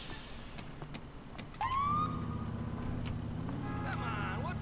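A wailing emergency siren on an ambulance in Grand Theft Auto IV swells in and keeps cycling near and loud, with someone talking over it.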